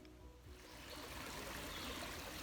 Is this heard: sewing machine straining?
no